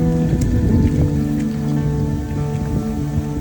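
Steady rain falls on a hillside trail at Ranipuram, a loud, even patter of drops on surfaces that continues unbroken with no voices.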